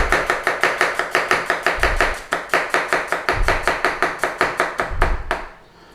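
Knife chopping through onion slices on a cutting board for onion bhajis, a fast steady run of close, crisp thuds about four or five per second, stopping near the end.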